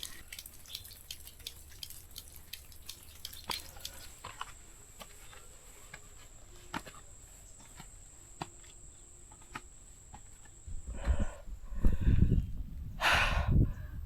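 Water drips from a rock seep on a mountain trail, quiet scattered drops over a faint insect whine, with louder rustling bursts near the end.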